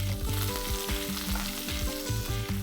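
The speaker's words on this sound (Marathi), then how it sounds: "तेल तापलेलं आहे. आपण आता इकडे घेऊया लसूण, चांगला 2 टेबलस्पून बारीक चिरलेला घेतलेला आहे आणि तो आपण घालतोय" Finely chopped garlic and coriander sizzle loudly in hot oil for a Maharashtrian dry shrimp dish, a dense continuous crackle with no voices.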